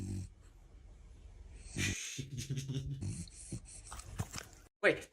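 A French bulldog snorts, wheezes and whimpers in short, irregular bursts at close range, with some faint voices mixed in.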